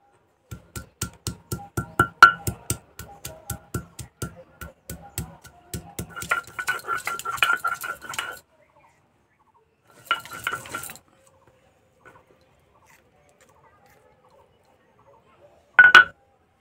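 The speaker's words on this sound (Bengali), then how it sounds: "এখন আমি বেটে নিচ্ছি আদা।" Ginger is ground on a traditional grinding stone, a regular series of rhythmic knocks and scrapes that turns into a rougher rubbing, then brief bursts of scraping and a final sharp clack, with quiet gaps between.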